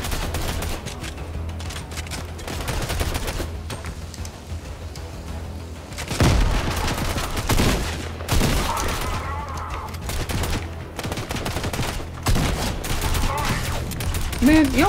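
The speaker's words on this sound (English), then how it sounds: "Forgot I can shoot multiple times with this thing." Gunfire rings out in the video game Fortnite, rapid bursts of shots over continuous game sounds and background music, with someone talking at times between them.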